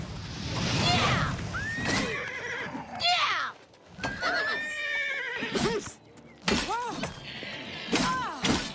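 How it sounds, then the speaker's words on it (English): A horse whinnies repeatedly during a bandit fight in The Elder Scrolls IV: Oblivion Remastered, loud shrill neighs mixed with clattering hooves, breaking and thudding combat sounds and some voice. "I don't know why bandits always have to attack the horse."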